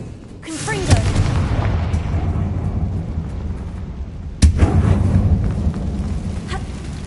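Confringo fire spell from Hogwarts Legacy, heard as two loud booming blasts, one near the start and another midway, each followed by a rumbling tail.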